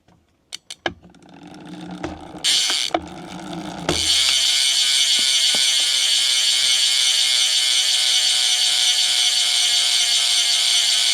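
A bicycle freewheel with a new, freshly waxed chain, heard during race week before a 70.3 triathlon. A few taps and clicks come first, then a loud, fast, continuous ratcheting buzz starts close up and holds steady to the end.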